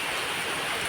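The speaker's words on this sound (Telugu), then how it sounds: "మరి పెద్ద పెద్ద చినుకులు పడుతుంది" Large, hail-like raindrops falling in a dense, steady roar of rain on surfaces, loud and close, with no pauses for the whole brief moment.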